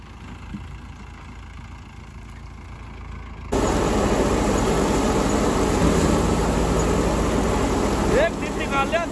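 A tractor runs a wheat threshing machine, its engine droning steadily, then jumping sharply louder partway through and staying loud and close, with a rough mechanical roar.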